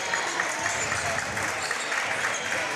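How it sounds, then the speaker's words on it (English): Basketball game crowd applauding and cheering steadily in a gym as the Bulldogs lead late in the game, a dense continuous roar of clapping with voices mixed in. "Crowd on their feet."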